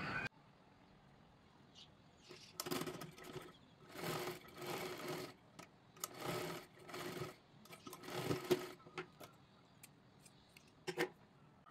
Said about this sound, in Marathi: व्यवस्थित इथून शिलाई करायची आहे, ते कडेपर्यंत आपल्याला ते पॅक करून घ्यायचं आहे